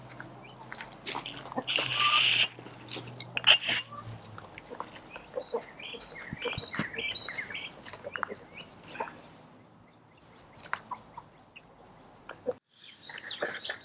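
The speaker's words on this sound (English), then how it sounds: "So we're gonna let our chickens out" Golden comet hens cluck and call in a backyard coop setup, scattered near and far bird calls and clucks over a low hum and rustling, with occasional bits of voice in the background.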